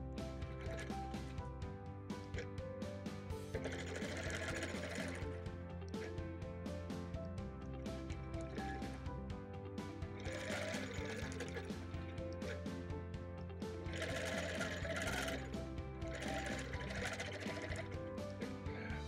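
A sewing machine hums and chatters continuously while stitching sections of a Gypsy Wife quilt, with louder surges near the start, middle and end over background music.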